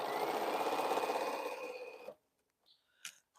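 A sewing machine runs steadily as it stitches 2.5-inch quilt squares, a continuous close whir for about two seconds, then stops, leaving a few faint clicks and small handling noises.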